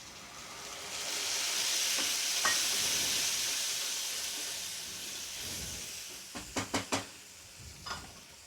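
Tempering for kokum dal dhokli sizzles loudly over softened onion and tomato, a broad hiss that swells and fades, followed by several sharp clanks and stirs near the end.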